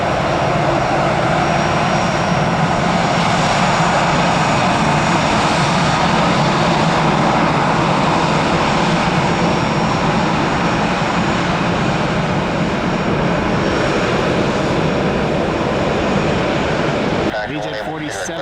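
Allegiant airliner jet engines roaring steadily at Cincinnati/Northern Kentucky International Airport, a loud sustained broadband rumble and whine that continues for most of the clip before dropping off near the end, with talk mixed in.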